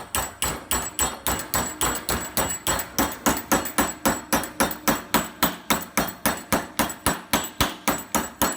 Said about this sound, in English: taking a hammer and knocking it over